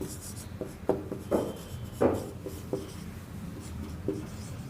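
Chalk or marker writing on a board while a calendar code is noted down, a series of short scraping strokes with small pauses, near and clear, and a voice speaks faintly in the background.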